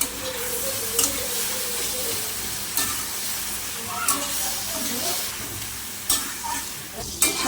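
Softened spinach stirred in a pan, a low continuous sizzle with occasional scraping strokes, close by, while someone speaks over it.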